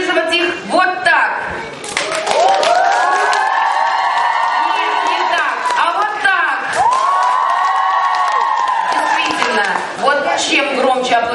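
A children's camp audience at a talent festival cheers and shouts loudly, with sustained high-pitched whoops and clapping filling the whole stretch; the crowd noise stays close and dense throughout.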